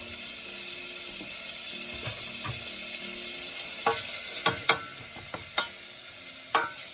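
Bacon frying in a little butter in a warm pan gives a steady low sizzle with a few sharp scrapes and clacks of a utensil against the pan, close by and without talk.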